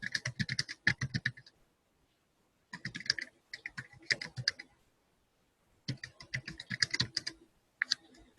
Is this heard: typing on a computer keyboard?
yes